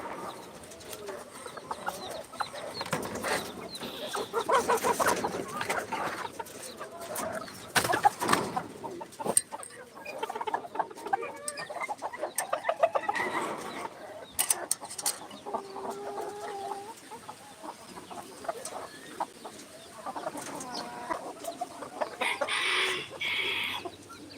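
Black chickens (karinkozhi) in cages cluck and chatter on and off, fairly near, with other birds calling faintly in the background.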